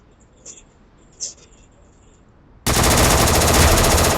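Shooter video game gunfire with a headshot: after two faint quiet blips, a sudden loud burst of rapid automatic fire starts and continues densely to the end.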